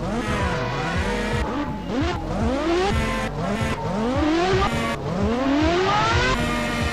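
An engine note from a car driven in the online game GTA San Andreas, held loud and steady throughout, with repeated rising revs as it shifts through gears, occasional tire noise, and no talking.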